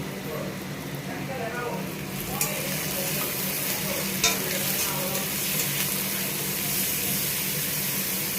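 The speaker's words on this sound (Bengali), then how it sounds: "সব মশলাগুলো ভালোভাবে কষিয়ে নেব" Spices being stirred and fried in a pan for vegetarian Kashmiri aloo dum made without onion or garlic, with coriander powder added; a steady close sizzle runs throughout under occasional scraping stirs.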